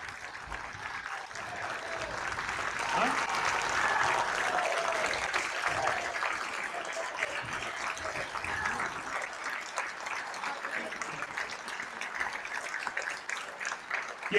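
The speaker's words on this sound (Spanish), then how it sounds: "para quien pido un aplauso" Members of the National Assembly applaud while standing in the chamber, a sustained, even roar of many hands that swells early, then holds steady for over ten seconds with faint voices mixed in.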